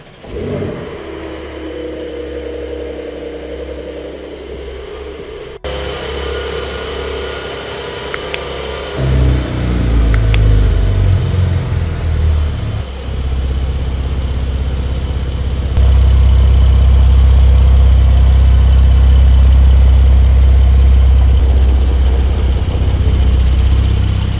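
Porsche 992 Carrera 4S flat-six engine on a racetrack, idling with a steady low rumble, then revving up loudly from about nine seconds and holding a strong, near, sustained drone to the end, with no talk.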